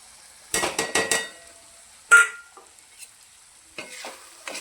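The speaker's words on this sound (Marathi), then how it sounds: "यामध्ये थोडेसे कूट टाकून हलवून घेऊया" A spoon stirs tomato chutney with sesame-peanut powder in a hot pan: a quick burst of several close scraping strokes with light sizzle, one sharp clink, then a few softer stirs, and no talking.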